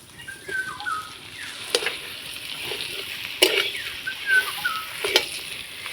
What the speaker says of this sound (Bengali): এবার নাড়াচাড়া করে সবজির সঙ্গে ভালো করে মিশিয়ে নিব